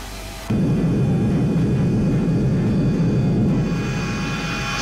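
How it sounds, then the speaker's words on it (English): Jet engines of a Felis 747-200 in X-Plane 11 spool up during pushback. A steady, loud broadband roar with a faint whine kicks in abruptly after a short quiet hum and holds evenly to the end, with no talk. "Start the engine, let's push back."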